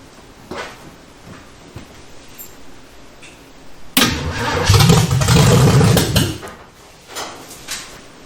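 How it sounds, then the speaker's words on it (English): Chevy Nova engine cranking over with carburetor cleaner in the carburetor, a few faint clicks then one loud burst of starter churning for about two seconds that fails to catch, close by with no talking. "let's see if it'll crank up. Put a little carburetor cleaner in the carburetor."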